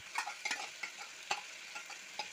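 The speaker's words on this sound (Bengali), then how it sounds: "এই যে দইটা আমি এখন ঢেলে দিচ্ছি।" Spiced yogurt, mixed with cumin powder, coriander powder, pepper powder and Kashmiri chili, is poured into a hot pan for doi potol. A faint, steady sizzle is broken by scattered soft clicks and spatters, with no talking.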